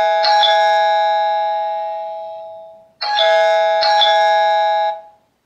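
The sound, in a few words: doorbell chime triggered by TP-Link Tapo S200B smart button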